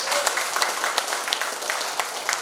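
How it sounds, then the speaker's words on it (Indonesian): A small group at the opening of a basic safety training course for fishermen in Batang Gondang claps for the fishermen, loosely and unevenly, with distinct individual claps close by. "Tepuk tangan dulu buat nelayan."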